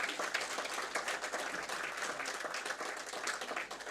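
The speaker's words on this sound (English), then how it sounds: "you can give us a round of applause" Audience applause at the 4th India CFO Awards 2024 ceremony, a broad continuous patter of many hands clapping, steady and fairly distant-sounding throughout with no speech over it.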